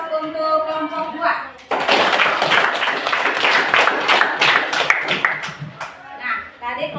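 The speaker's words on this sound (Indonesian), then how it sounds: "Mari kita berikan aplaus untuk kelompok 2" Classroom applause for group 2: a voice speaks briefly, then a burst of dense clapping from many hands begins abruptly and carries on for several seconds, fading toward the end with voices mixed in.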